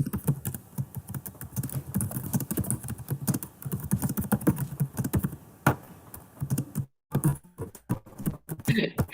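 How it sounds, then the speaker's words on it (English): Rapid, uneven clatter of keys on a computer keyboard typing close up, running throughout with brief pauses, while people talk in the background of an online song and poetry swap. "Nice typing."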